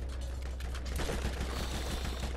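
Rapid enemy gunfire in the Borderlands video game, a dense continuous volley of shots filling the whole moment with no voices over it.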